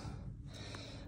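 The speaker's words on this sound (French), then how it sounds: "je suis essoufflé" A man pants out of breath during a Bali vlog, with a quiet snorting gasp of air over steady background noise.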